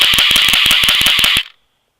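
Rapid bursts of airsoft gunfire, a fast rattling string of sharp pops lasting about a second and a half before cutting off abruptly, loud and close.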